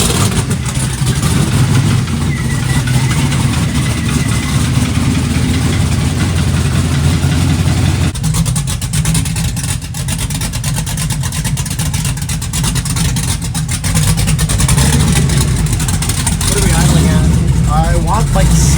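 A 1972 Chevrolet Nova with a swapped LS 5.3 V8, BTR cam and built 4L60E transmission runs loudly and steadily up close, a deep throbbing idle that shifts in tone partway through, with voices talking over it.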